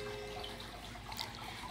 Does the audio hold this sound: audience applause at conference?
no